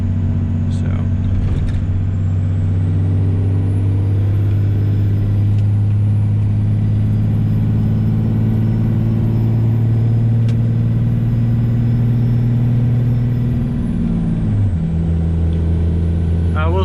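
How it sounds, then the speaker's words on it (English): A 24-valve Cummins diesel in a dually pickup drones steadily while towing, its loud turbo whining on top of the low engine rumble, with a gear or throttle change near the end and someone talking over it. "Turbo's loud as fuck though. Turbo's real loud though."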